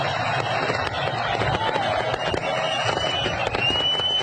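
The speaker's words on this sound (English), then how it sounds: "The northern Iraqi city of Mosul enjoying fireworks at the stroke of midnight last night" Midnight New Year fireworks over Mosul, Iraq: rapid crackling pops and sharp bursts scattered throughout, with a few faint whistles, set against a busy outdoor city wash and crowd noise.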